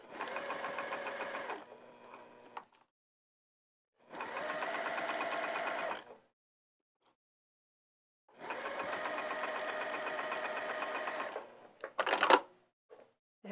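A sewing machine stitches binding along the edge of a heart-shaped potholder, an eighth of an inch in, in three steady close runs with quiet gaps between, ending with a few sharp clicks and handling noises.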